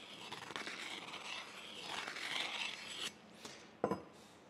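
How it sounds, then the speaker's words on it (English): A hand deburring tool scraping lightly around the inside edges of machined metal pieces for a cane mill pouring mandrel, a close, soft rasping that runs steadily and then ends in a few sharp clicks and taps. "we're going to take a deburring tool and just deburr these lightly on the inside, on both sides."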